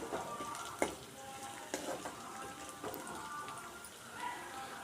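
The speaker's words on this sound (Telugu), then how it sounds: "ఇక్కడ లైట్గా బ్రౌన్ కలర్ వచ్చేసాయి ఆనియన్స్ సో ఇంకొక టూ మినిట్స్ ఫ్రై చేసేసి" Onions frying in a pan for a tomato curry, a steady soft sizzle and crackle with scattered pops, heard close and on its own at low volume.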